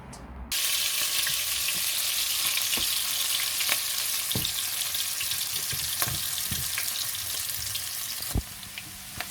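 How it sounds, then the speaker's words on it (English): Pieces of tender meat, precooked before going into hot oil for a rice noodle dish, sizzle and crackle loudly and continuously after a sudden start, with occasional clinks and stirring sounds. "Now our meat is tender after 5 minutes, so I'm going to put it in a hot oil."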